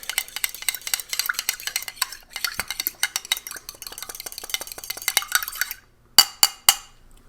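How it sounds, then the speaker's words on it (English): A fork stirs muesli from a Dutch arctic ration in a container, producing rapid close clinking and scraping strokes that pause, then end with three sharper taps. "Pardon me while I stir this with my fork."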